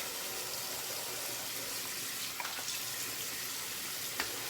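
Running water from a tap splashes over a shave stick and face, a steady close hiss with a couple of small drips and taps near the end.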